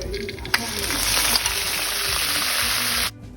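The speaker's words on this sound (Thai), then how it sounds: "ก็ให้นำยำหมูสับที่เรา ผสมคลุกเคล้าไว้เมื่อสักครู่นะคะนำมาผัดเลยค่ะ" Minced pork salad mixture is stir-fried in oil with fried shallots, a loud, dense, steady sizzle with a single clack of the utensil early on, cutting off abruptly just after three seconds.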